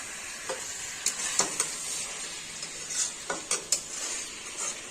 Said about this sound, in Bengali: আর ঘি দিয়ে দিচ্ছি।